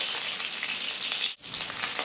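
Pieces of masala fish fry in hot oil in a pan, giving a dense, close, continuous crackling sizzle with one brief dip in the middle.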